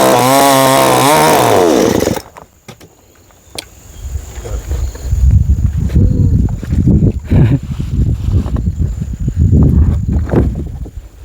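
A petrol chainsaw revs loudly and close for about two seconds while cutting softwood at a garden house build site, then cuts out, leaving thumps, rustling and quieter work noises.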